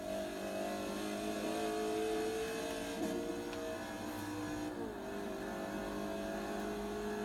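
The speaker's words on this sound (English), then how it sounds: "It's loud, it has a V8 engine, rear wheel drive." A rear-wheel-drive V8 American muscle car engine in Forza Horizon 3 drones loudly and continuously, its pitch rising and dipping as it revs, with no talking.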